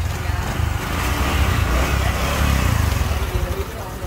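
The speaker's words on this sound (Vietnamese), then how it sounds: "nổ máy anh em ơi." A Honda Future 125 motorcycle with a full engine rebuild and a retuned carburetor runs steadily up close, a loud continuous low engine rumble with slight revving throughout.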